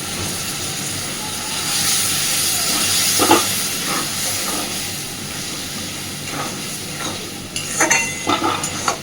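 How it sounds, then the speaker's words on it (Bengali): Water from rinsing a stone grinding slab poured into a pan of ground poppy-seed spice paste for an egg curry, giving a steady hiss and sizzle with soft stirring scrapes and a few sharper clatters near the end. "দিয়ে দিচ্ছি শিল ধোয়া জল আর একটু"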